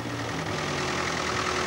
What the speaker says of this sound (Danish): som kom kørende på sin traktor.